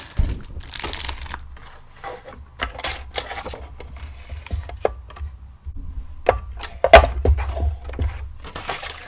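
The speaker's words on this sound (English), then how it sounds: "we're just going to take out a piece and trim it down to size" Paper being trimmed with a Tonic tiny trimmer at a craft table, a series of soft, close crinkling and sliding cuts with small handling noises between them.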